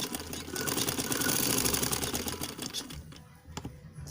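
A sewing machine runs a straight stitch along a katori blouse seam, a steady close whirring hum that slows and stutters near the end with a few clicks.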